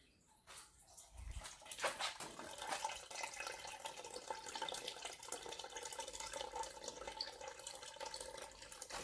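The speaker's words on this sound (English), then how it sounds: "And the water's running out and leaving the bead in the enclosure." Water running and draining out of a homemade vapor honing bead blast enclosure, leaving glass bead behind: a faint, continuous trickling and splashing that holds steady for several seconds, with no talking.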